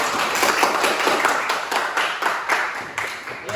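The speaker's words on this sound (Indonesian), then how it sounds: "Oke, tepuk tangan untuk teman-teman." Ninth-grade students in a classroom clap for their classmates, a moderately loud patter of many hands with rhythmic surges, carrying on for several seconds without speech.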